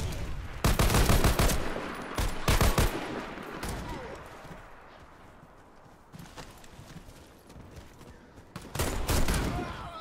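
Gunfire in the shooter game Warface, with loud bursts of rapid automatic fire in several clusters, quieter rattling and distant shots between them, and a final heavy burst near the end.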